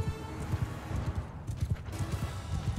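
A horse gallops in Mount & Blade II: Bannerlord, with rapid rhythmic hoofbeats thudding steadily at moderate volume and no voices over them.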